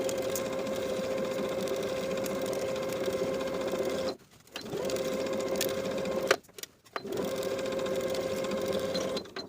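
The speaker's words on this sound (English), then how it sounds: "Sew from the bottom of the armhole to the bottom of the armhole with a 1/4 inch seam allowance." A sewing machine stitches a quarter-inch armhole seam on a linen shift dress, running in three steady, loud, whirring bursts separated by brief pauses.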